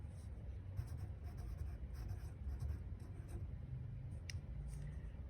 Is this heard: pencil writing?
yes